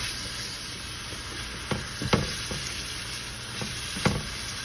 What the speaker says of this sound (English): so all that's set up in the pan, and I'm gonna saute that some more, a couple of minutes